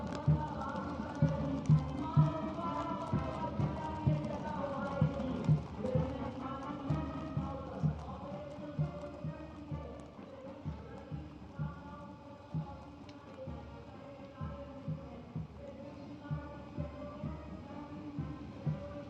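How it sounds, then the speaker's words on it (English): Steady clip-clop of many cavalry horse hooves marching in rhythm on hard ground at India's Republic Day Parade, continuous and moderately loud with a murmuring crowd behind. "mounted on magnificent gleaming steeds, the 61st Cavalry Contingent, led by Captain Ahan Kumar"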